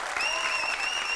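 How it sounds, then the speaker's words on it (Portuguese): Short burst of audience clapping at a stand-up comedy show, a continuous wash of hands with faint whistles riding over it. "Uma salva de palmas pra mim, vai."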